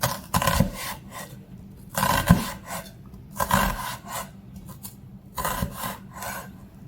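A knife cuts through an onion on a wooden board in four rasping, scraping strokes, close by, with short pauses between them.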